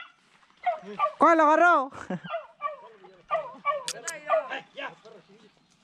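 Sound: dogs barking while hunting rabbits

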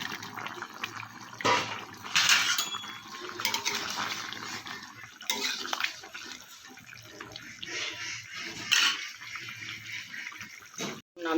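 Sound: curry gravy boiling in a pot

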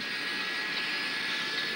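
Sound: airliner jet engine with more thrust, from a film

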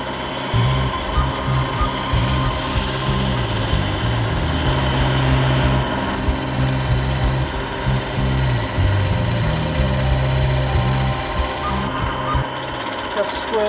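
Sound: wood lathe cutting a taper on an oak vase

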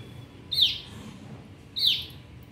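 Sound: pet bird chirping

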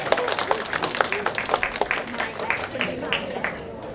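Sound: applause

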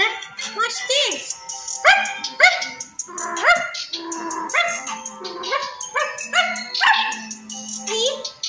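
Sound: child imitating dog barking

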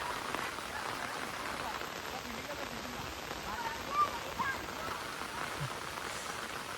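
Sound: rain falling

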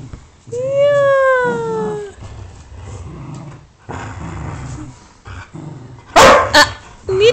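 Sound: dog barking

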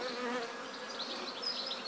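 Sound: honey bees flying around a hive

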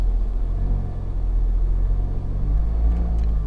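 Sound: Mercedes CLA engine accelerating with exhaust valve closed

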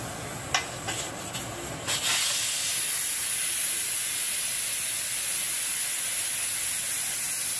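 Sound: pressure cooker releasing steam

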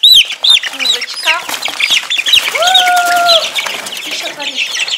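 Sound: chickens clucking

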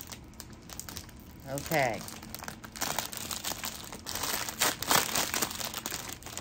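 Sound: crinkling of a parcel's packaging being opened

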